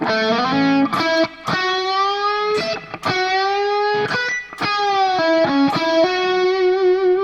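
Slow, sustained notes on a distorted electric guitar playing a solo, each ringing out with rich overtones and brief pick attacks between them, loud and close.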